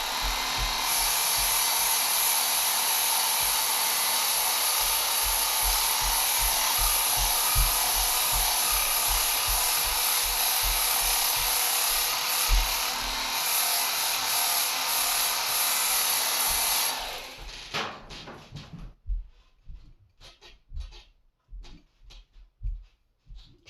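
An axe being sharpened on a Work Sharp belt tool grinder gives a loud, steady abrasive whir for about seventeen seconds, then the motor cuts off and a few faint scrapes and taps follow.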